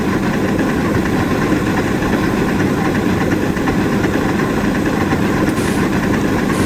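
A Shay steam locomotive climbs a steep grade with the throttle wide open in the Century of Steam game, a loud, steady chugging rumble with fast rhythmic beats throughout, no voices.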